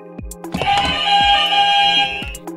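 A quiz show buzzer on a French TV game sounds one sustained electronic tone of almost two seconds, with short knocks and thumps around it and no speech.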